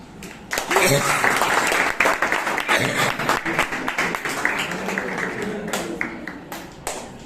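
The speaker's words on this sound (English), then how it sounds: "Please put your hands together to welcome Toastmaster" Audience at a Bangalore Toastmasters club meeting applauds to welcome Toastmaster Jeevan, steady broadband clapping from many hands that starts half a second in and gradually thins out toward the end, with no talk over it.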